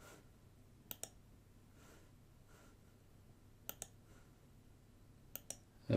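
Three pairs of quick, crisp computer mouse clicks, spaced a few seconds apart in a quiet room, with a faint bump at the very end.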